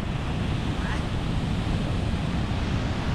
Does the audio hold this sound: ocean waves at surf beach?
yes